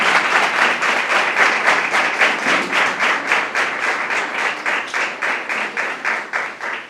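A church congregation claps together in a steady, loud rhythm, rapid beats repeating evenly throughout with no talking over it.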